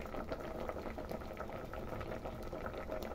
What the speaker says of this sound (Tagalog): Ayan, kumukulo na po ang ating paksiw.